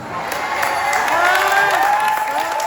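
Gala audience applauding at an Afro hair and beauty show, a loud, sustained burst of clapping and crowd noise mixed with a sung or spoken voice over a sound system.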